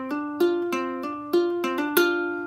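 Ukulele notes plucked one after another in a quick short phrase, with a hammer-on between strings; each note is clear and ringing, played alone and close, about eight plucks over a couple of seconds.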